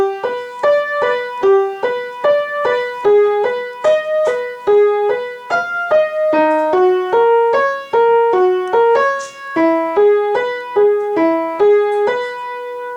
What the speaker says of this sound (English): That's the main synth part to this song.